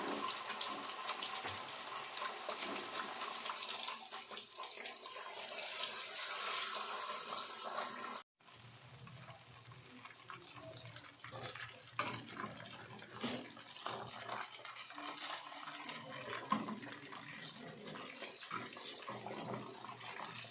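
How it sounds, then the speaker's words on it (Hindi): Fish coated in gram-flour batter fries in hot oil with a faint, steady hiss that breaks off briefly, then returns as scattered crackles and pops. "अब इसे फ्राई करने लगे हैं"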